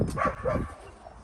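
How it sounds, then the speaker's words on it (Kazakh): A dog gives a couple of quick, close barks, followed by a brief pause and faint background noise. "Хозяйына үріп жатыр"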